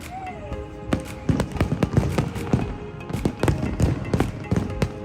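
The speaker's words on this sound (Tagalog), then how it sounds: "maswerte kaming nasaksihan ng napakagandang fireworks display ng libre" Fireworks at a National Day Parade rehearsal in Singapore crack and pop in rapid irregular bursts, sharp bangs scattered across several seconds with a fading whistle near the start, heard from a distance outdoors.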